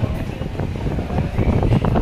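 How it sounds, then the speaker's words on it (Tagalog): Steady, broad rushing of strong cold wind at Mahogany Market in Tagaytay, buffeting the microphone, loud and continuous throughout with no clear voices. "Malakas ang hangin ng malamig."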